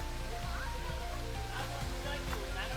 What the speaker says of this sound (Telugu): ఇదే ఉబ్బలమడుగు వాటర్ ఫాల్స్.